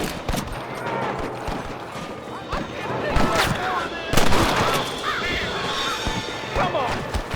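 Gunfire in Red Dead Redemption during a shootout: scattered rifle and pistol shots crack repeatedly at irregular intervals, some sharp and close, over a busy battle background with a shouted voice.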